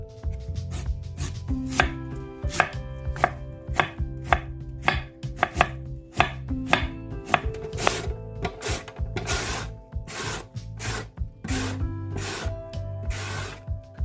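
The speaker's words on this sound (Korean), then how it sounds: "무 400g, 채를 만들어 주세요." Knife chopping radish into thin julienne strips on a cutting board, a steady run of close, sharp, rapid blade taps that keep a quick rhythm and grow denser toward the end.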